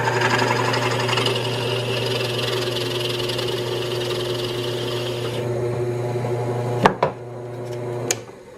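A drill press cuts a plug out of ash wood, its motor droning steadily and close, then winding down, followed by a few sharp knocks as the piece is handled.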